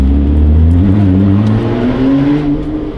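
An Alfa Romeo 4C Spider accelerates hard, its engine a loud, close roar that rises in pitch through the gears and carries on alone without any talk.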